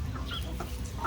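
Backyard chickens cluck softly while pecking at malunggay leaves in General Santos City, a few scattered close calls over a steady low farmyard hum.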